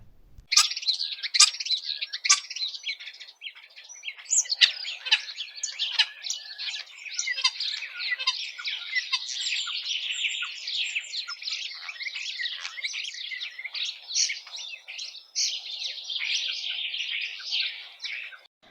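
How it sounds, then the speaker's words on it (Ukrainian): A starling sings continuously, a busy stream of chirps, whistles and squeaky trills, clear and close with no other sounds. "Давайте ж послухаємо, як співає наш шпак."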